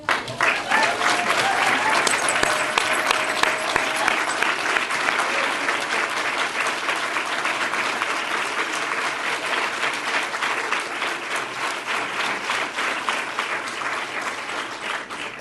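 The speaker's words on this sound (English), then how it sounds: "please stand up so we can applaud you" A roomful of guests at a celebration of women in politics applauds standing alumni candidates, loud full clapping that starts strong and slowly eases while staying sustained for about fifteen seconds.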